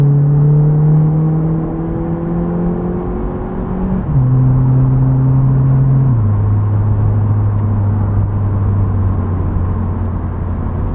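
A 2008 Mitsubishi Eclipse Spyder convertible accelerates hard with its 4-speed automatic, engine note climbing loudly, then stepping down as the transmission shifts, rising and dropping again in a close, steady drone with no talking.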